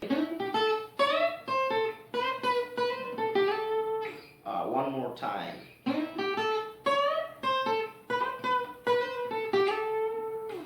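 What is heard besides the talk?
blues guitar lick with hammer-ons, pull-offs and slides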